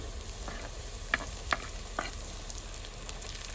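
Chopped onion and green chili fry in a pan for egg bhurji with a steady, close sizzle, broken by a few sharp clicks of a spatula stirring against the pan.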